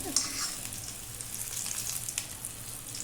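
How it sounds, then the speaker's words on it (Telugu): Stuffed bitter gourd fries in a pan with very little oil and is turned as it cooks. A soft, steady sizzle is broken by a few brief scraping stirs, with no voices. "కొంచెం అలా తిప్పుకుంటూ వేయిస్తున్నాను నేను"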